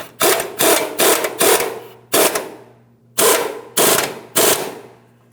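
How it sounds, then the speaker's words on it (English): An impact wrench tightens the upper control arm mounting nut on a 2007-2014 GMC Sierra 2500 HD, firing eight loud, close bursts in a rhythmic pattern separated by brief pauses. "Once you have it in the proper positioning, tighten the mounting nut side."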